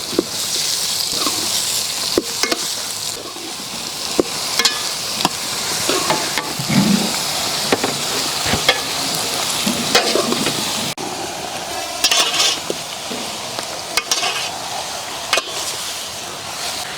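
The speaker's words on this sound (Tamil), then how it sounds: "எண்ணெய் சேர்த்து கத்திரிக்காய் நல்லா வதக்கி எடுக்க போகிறோம்." Brinjal frying in oil in a pan in a village kitchen, giving a steady hissing sizzle broken by repeated scraping and stirring clicks over a long stretch.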